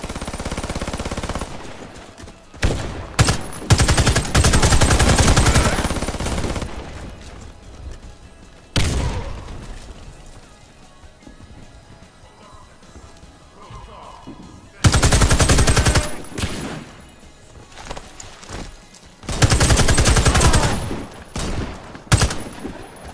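Bursts of DP-27 machine gun fire in the video game Warface, loud sustained volleys of several seconds separated by quieter stretches of ambient game noise, with a final run of rapid shots.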